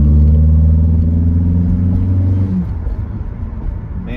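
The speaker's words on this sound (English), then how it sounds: "Man, the intake sounds good." Honda K24 engine driving under load at night, a loud steady rumbling drone of intake and exhaust with harmonic tones that hold, then shift and ease as the car changes pace, close and continuous with no talk.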